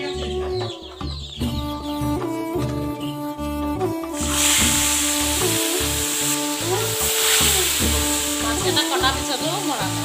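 Koi fish drop into hot oil and set off a loud, steady hiss of frying about midway through. Earlier sounds and voices continue over the sizzle.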